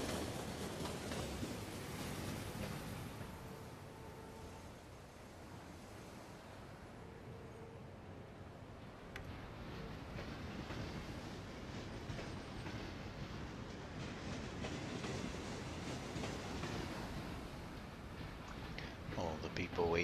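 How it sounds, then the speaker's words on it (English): A tram arriving at the final stop of a line in the city-building game Cities in Motion 2: a continuous rumble with light rail clatter, steady and fairly close, with a voice talking over it. "Here comes the next tram."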